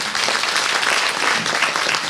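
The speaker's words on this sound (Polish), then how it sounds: "Brawa dla nich." Concert audience applauding a band after its bass and lead guitarists are introduced: dense, steady clapping that stays loud and close for the full two seconds, with no voices on top.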